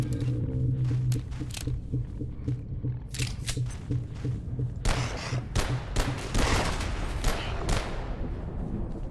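Rapid bursts of gunfire from shooting in a video game, crackling in clustered volleys against a steady hum, with a voice talking over parts of it.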